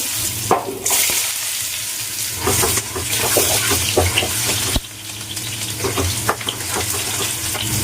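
Two small potatoes sizzling and being stirred in hot oil with cumin, a steady loud crackle with occasional clatter and scraping of the pan.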